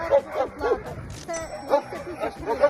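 Several dogs at an animal shelter barking and yipping in quick overlapping bursts, fairly close, with a faint metallic jingle and a murmur of voices in the background.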